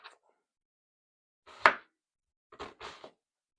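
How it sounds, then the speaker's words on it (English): A knife chops an onion into chunks on a cutting board in a few crisp, separate strikes: one sharp cut in the middle, then two quick cuts close together near the end, all close and dry. "Cut through just like that to give ourselves nice chunks of onion."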